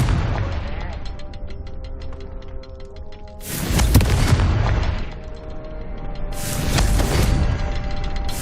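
Booming magical blasts from a fire spell in Hogwarts Legacy, two heavy explosions rolling over a loud, dense game soundscape of rumbling and crackling.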